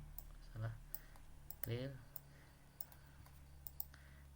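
A computer mouse clicks a few times in quick, sparse taps while signing a form on a dashboard, soft and close, with a person talking quietly in between.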